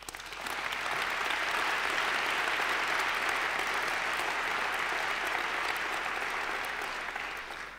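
Sustained audience applause at the opening ceremony of a university's new central building, a dense even roar of many hands that swells in quickly, holds steady, and tapers at the close.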